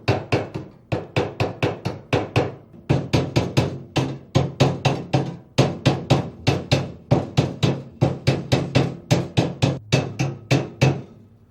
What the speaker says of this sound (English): I got quite a bit of loose material off with a chipping hammer.